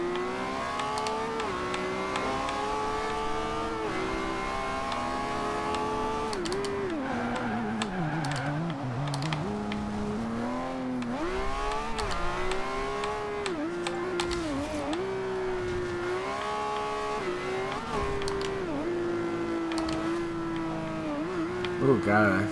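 A 2012 Lamborghini Aventador LP700-4 in Forza Horizon 2, rated at 1,059 horsepower and turbocharged, sends out a continuous engine note that climbs and falls through repeated accelerations and gear changes for the full stretch, loud and steady.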